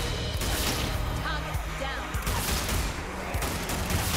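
Rapid automatic gunfire rattles almost without a break in the video game Zombie Army 4: Dead War. The shots are loud and dense, and a player talks over them.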